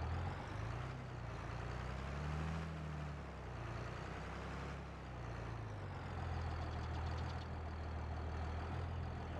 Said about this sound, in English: Put this tractor away and then we'll jump in our other main tractor